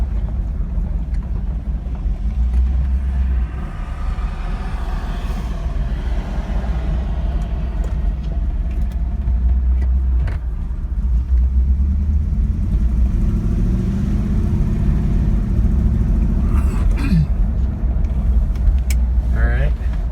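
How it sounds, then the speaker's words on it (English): Steady road traffic rumbling past a driveway beside a parked 1965 Buick Riviera Gran Sport, a continuous mid-loud wash of car engines and tyre noise with a voice talking over it. "there is a whole lot of traffic today"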